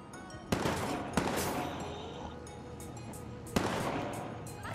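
Rapid gunfire crackles in the video game Watch Dogs 2, a few sharp loud cracks standing out over a steady wash of continuous shooting and chaotic game noise.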